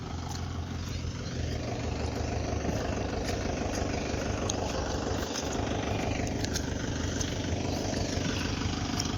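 A Mahindra tractor engine runs steadily while the tractor sits stuck in a muddy farm field, a loud, continuous diesel rumble with a slight rattling texture and no talk.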